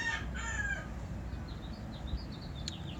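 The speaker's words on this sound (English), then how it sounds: "Excuse my rooster, he's annoying." A rooster crows once near the start, a loud drawn-out call, followed by softer chirping bird sounds over a low background hum.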